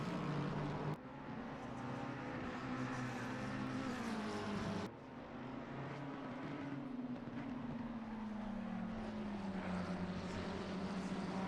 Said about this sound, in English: Bias Gable returns in his red McLaren